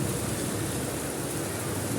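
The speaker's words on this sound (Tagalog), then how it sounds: "Malakas ang ulan" Heavy rain pours steadily in a dense, unbroken roar, loud and close, with no voices.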